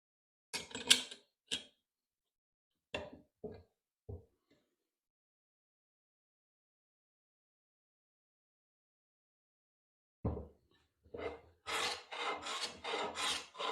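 A No. 4 hand plane cutting wood shavings with a straight blade: a few short rasping strokes, a long pause, then a rapid series of louder swishing strokes, close and alone.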